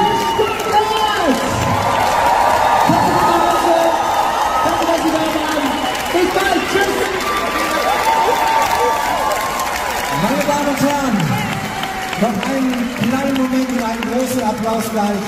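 A live dance-show audience in a Stuttgart hall cheers, applauds and shouts in a loud continuous crowd roar, while a voice talks over the noise throughout.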